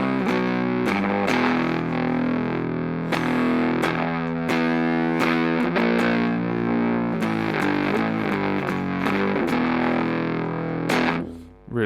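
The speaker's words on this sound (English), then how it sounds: "So then throwing the Big Muff over the top of that, on the cleaner of the two channels on the neck, it sounds something like this." Electric guitar on the neck pickup, fed through a Big Muff fuzz pedal into the cleaner amp channel, playing thick, heavy, sustained fuzz chords and riffs, loud and close, continuous until a short fade at the end.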